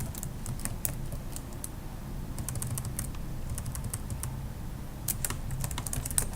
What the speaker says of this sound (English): I type advanced filter, right?